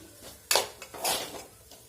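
Zunka, a gram flour dish, being stirred in a pan: a couple of short scraping clinks of a utensil against the pan over a quiet background, close and brief.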